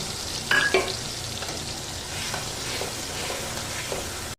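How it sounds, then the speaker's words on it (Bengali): Potatoes frying in a pan with cumin paste, stirred steadily: a continuous close sizzle with a couple of louder scraping strokes near the start and soft spoon movements throughout, no talking. "এবার আমি এর মধ্যে দিয়ে দিচ্ছি জিরা বাটা দিয়ে এটাকে আমি এখন ভালো করে কষিয়ে নেব"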